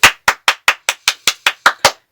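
Ten sharp, evenly spaced hand claps land about every quarter second, loud and close. Each one stands alone with silence between, and the run ends after roughly two seconds. The claps are given as applause for a performance.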